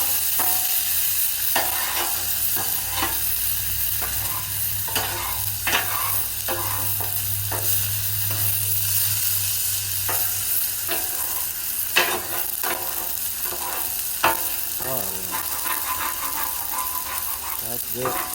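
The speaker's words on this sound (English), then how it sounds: "Flipping, steady flipping." A ribeye steak sizzles loudly and steadily on a Blackstone griddle, cooked well done, with repeated scraping and tapping of a spatula as it is flipped and moved throughout.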